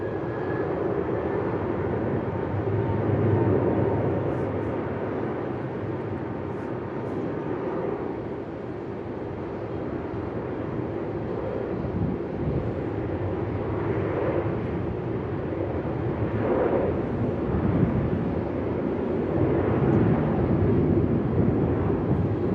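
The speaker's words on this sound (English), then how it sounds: "Qantas straight on the runway and off they go" A Qantas Airbus jet taking off from the runway at Melbourne Airport, heard from a distance as a broad, steady engine roar that swells gradually over the whole stretch.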